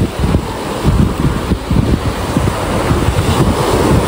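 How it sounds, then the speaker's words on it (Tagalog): Moderate sea waves wash onto a beach where fishermen haul a traditional net in fair weather, a constant surf roar heavily buffeted by wind on the microphone. "Hindi naman po ganun kalakas ang alon ngayon."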